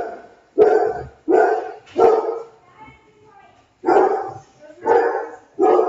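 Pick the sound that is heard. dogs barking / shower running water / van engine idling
dogs barking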